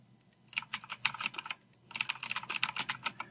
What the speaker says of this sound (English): if we click on New Email and we start typing